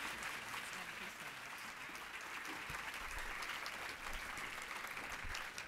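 Audience applause at a university event in Morgantown, steady and sustained across the whole stretch, moderately distant with a dense, even texture and no break.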